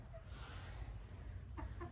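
Chickens in their new coop giving a few short, soft clucks near the end over a faint, low background rumble.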